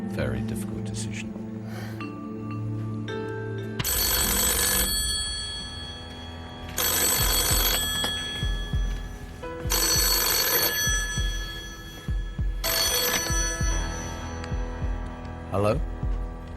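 A telephone rings on the Deal or No Deal game show in repeated loud bursts with pauses between them. A tense music bed plays under the rings, and a host's voice is heard around them.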